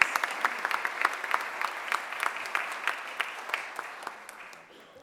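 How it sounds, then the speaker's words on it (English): Applause at a mayor's press conference, a steady patter of clapping from a modest gathering that holds for several seconds and then gradually fades out. "Give her a round of applause, please."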